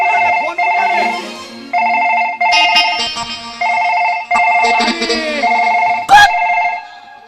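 A phone ringtone plays loud and close as a repeating electronic melody in short bursts with brief gaps, joined near the end by a few sharp noises.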